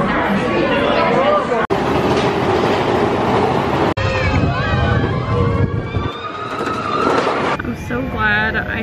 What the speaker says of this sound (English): So it's just a fast train ride.